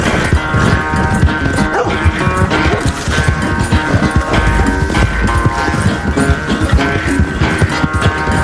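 Hooves pound in a fast, rhythmic clip-clop as a horse gallops during a race in Red Dead Redemption 2, loud and close, with game sounds layered beneath.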